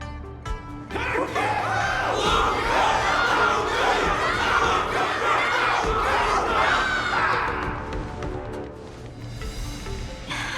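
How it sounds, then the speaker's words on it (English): A game crowd in Honkai Star Rail cheers and shouts together, a dense, loud roar of many voices that holds steady for most of the stretch, then thins and fades toward the end. "Can't you hear? Everyone's cheering for you, Luca!"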